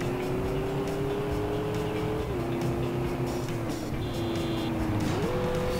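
A race car drives in the Stuntman video game, its engine droning steadily with slight pitch shifts as it changes speed, and a brief tire squeal partway through.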